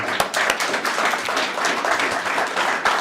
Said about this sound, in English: you have to clap for her